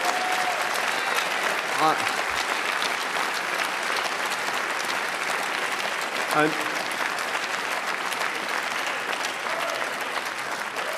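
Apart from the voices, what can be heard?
conference audience applause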